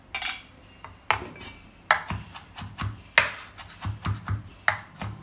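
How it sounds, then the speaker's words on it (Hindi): A knife finely chops tomato on a board, giving a run of sharp, irregular close taps and thuds that are sometimes spaced out and sometimes quick, with no voices. "इसी तरह मैं थोड़ा टोमेटो भी थोड़ा और थोड़ा बारीक चॉप करके वो भी मैं डाल दूँगी"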